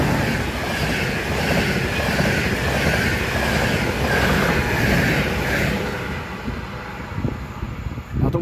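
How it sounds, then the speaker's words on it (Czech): A EuroCity passenger train rumbles past steadily for several seconds near Mělník, Czech Republic, loud and close, with wheel noise and clattering fading toward the end. "No a tím vlakem je další Berlíner"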